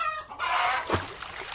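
A hen gives a few short clucks and squawks, close by and fairly loud, with no one speaking.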